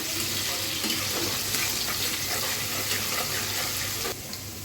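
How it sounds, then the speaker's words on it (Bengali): Chopped onion sizzling lightly in a pan for mustard pabda fish curry makes a steady, close frying hiss with some stirring and watery crackle, and the sound drops slightly near the end. "এখানে প্রথমে পেঁয়াজ কুচি দিয়ে দিচ্ছি পেঁয়াজটা একটু ভেজে নিব হালকা করে"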